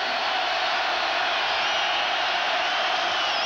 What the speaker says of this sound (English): Crowd roaring at Memorial Stadium